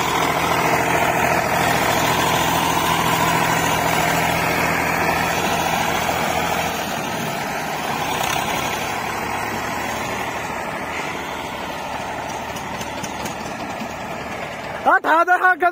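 Eicher 485 tractor engine running steadily while pulling a computer land leveller in a field, a continuous loud mid-pitched drone that holds throughout with a brief clatter near the end.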